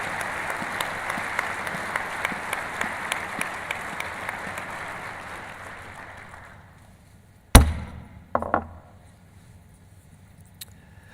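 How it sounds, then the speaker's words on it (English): Loud, sustained applause from a Masonic lodge assembly fills the first six seconds, then fades out, followed by a sharp thud and a couple of brief knocks in near quiet. "Please join me in a round of applause"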